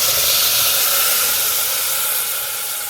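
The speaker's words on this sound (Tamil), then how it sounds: "அரைச்சி வச்சு விழுத ஊற்றிடுவோம்." Ground tomato paste hits a hot pan for tomato thokku, giving a loud, steady steam-like sizzle and hiss that slowly fades over a few seconds, with no voices.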